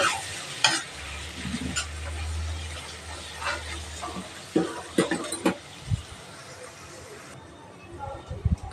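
Fenugreek leaves fry in hot oil for a dried fish curry, giving a steady sizzle broken by scraping stirs and clatter from the pan, with a low hum early on and faint talk in the background.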